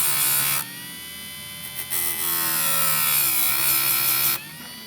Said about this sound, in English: You just want to sharpen it, go over it a few times and make sure you get a nice sharp tooth.